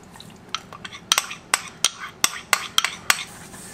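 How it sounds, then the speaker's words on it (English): A utensil stirs breadcrumbs with melted butter in a dish, making a series of sharp, rhythmic clinks and scrapes close by, with no talking. "going to stir that well"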